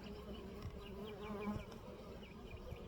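Honeybees buzzing steadily at a hive during a summer nectar dearth, a dense continuous drone of many wings up close with no voices.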